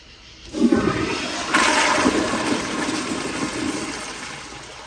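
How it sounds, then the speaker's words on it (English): A Kohler Kingston 1.6 gpf toilet flushes loudly up close, a sudden rushing roar of water that swells into a second surge and then drains steadily, a third flush attempt on a heavy load of toilet paper. "So this is our first attempt where we're not going to be able to clear it in 2 flushes. We'll go for a third."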